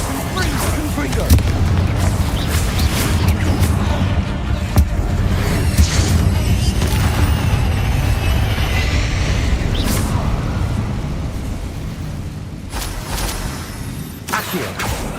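Rumbling fire-blast explosions from the Confringo spell in Hogwarts Legacy, a dense continuous roar with booming hits throughout, a voice speaking over part of it.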